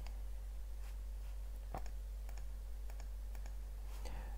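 Sparse, quiet clicks of computer keys as a terminal command is typed, a handful of separate presses against a low steady hum.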